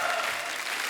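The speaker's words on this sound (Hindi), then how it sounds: "जोरदार तालियों के बीच प्लीज वेलकम" Studio audience applause at a comedy talk show welcomes actor guests, a dense, loud, continuous wash of clapping filling the whole short moment.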